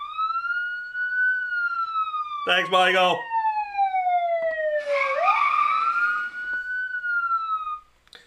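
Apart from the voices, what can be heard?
siren sound effect played on a live stream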